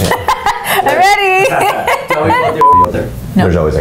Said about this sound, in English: But I hear that beeping something. It's a fax machine.